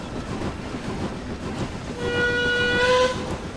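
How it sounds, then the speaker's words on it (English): A Caledonian Railway locomotive whistle in a train simulator game sounds one sustained, shrill blast over the rumbling, clattering train, rising in the second half and lasting about a second. "Ooh, that was an interesting whistle."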